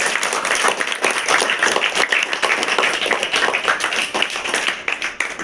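A seated audience at a school science-room gathering claps loudly and continuously, a dense burst of applause that carries on for several seconds before tapering slightly.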